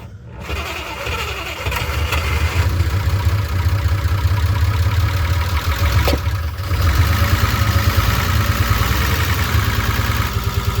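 A Unimog truck's engine running steadily after starting, a loud continuous low rumble with a brief dip midway, close and alone without talk.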